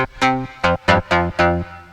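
Six short, dry synth plucks in FL Studio play a simple bouncy melody, each note clean and clipped with no tail and no effects, alone and fairly loud.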